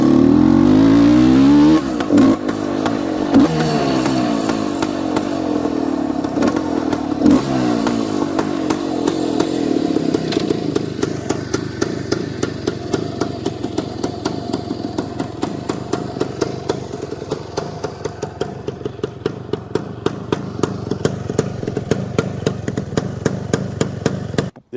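A 1971 Yamaha RT1-B 360 motorcycle engine runs loud and close for the whole stretch, its steady exhaust drone settling into a fast, even popping rhythm after the first few seconds, with no talk over it.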